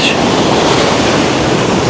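Large Caribbean waves break on the eroding beach at Palomino, Colombia, in a loud, continuous roar of surf with wind buffeting the microphone.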